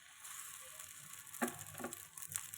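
Hot oil sizzling on a heated griddle (chatu), a faint steady crackle with a couple of louder hisses and spits partway through, and no voices.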